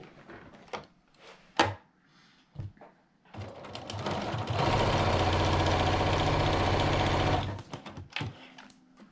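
A sewing machine stitches a flying geese quilt block along a marked line, a steady close mechanical whir running for about three seconds between scattered handling clicks and bumps, no talking.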